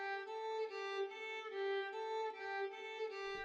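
Embertone Friedlander sampled violin repeats one pitch about six or seven times with round-robin variation, so each bowed note differs slightly in a smooth, even pulse, solo and close.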